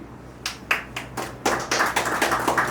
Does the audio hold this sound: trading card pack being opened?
no